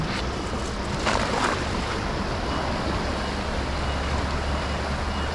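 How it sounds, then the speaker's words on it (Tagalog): Strong rushing water roars steadily, a dense broadband wash with a few surging swells, close and continuous. "Malakas yung agos."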